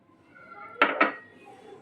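Two quick metallic clinks of a utensil against a pan while grated coconut, sugar and cream are stirred together off the stove, each knock close and sharp against a quiet background.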